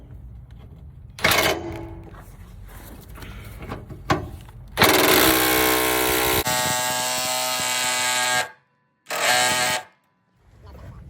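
Ratchet with a 19 mm socket working at a stubborn fuel tank bolt on a 1993 Bounder diesel RV, giving bursts of loud mechanical clicking and whirring, with pauses and short gaps between efforts.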